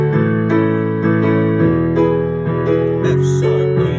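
Piano chords played with both hands, a steady bass note under sustained chords changing every half second or so in an even rhythm, loud and close.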